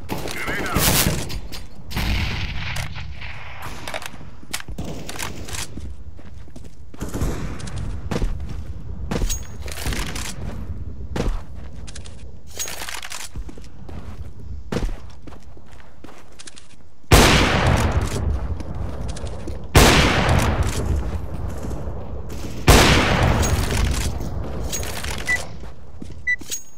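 Gunfire and a grenade blast in a Counter-Strike: Global Offensive match: repeated sharp shots and bursts across the whole stretch, with louder heavy impacts near the end and voices talking in places.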